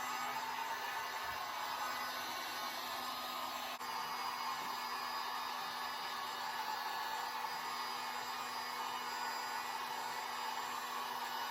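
Wind on a windy day buffets the microphone outdoors in a continuous, even roar of noise that lasts throughout, with no talking.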